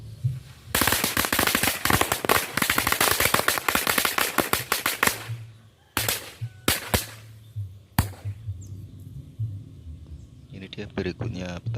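Several packs of firecrackers set off all at once, a dense rapid crackling barrage close by that thins into scattered loud bangs and then a few last pops.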